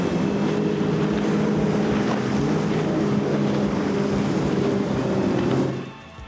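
A 34-foot MTI powerboat with Mercury Racing 450R engines roars past at a Key West poker run, a loud continuous engine drone with water and wind rush that fades out at the end.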